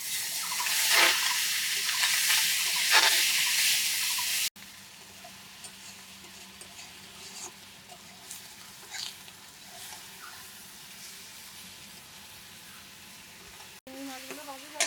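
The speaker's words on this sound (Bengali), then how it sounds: "চিংড়ি মাছগুলো ভেজে নেব, তার জন্য একটু তেল দিয়ে দিলাম।" Shrimp coated in salt and turmeric fry in hot oil with a steady crackling sizzle, loud and close at first, then softer and continuous across abrupt cuts.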